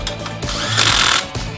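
Power tool running while front brake calipers are tightened to spec on a Harley bagger front end (2013 and earlier), a steady loud mechanical whir that swells in the middle and then drops back, heard alone without talk.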